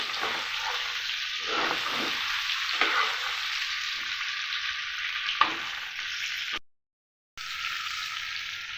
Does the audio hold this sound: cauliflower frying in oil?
yes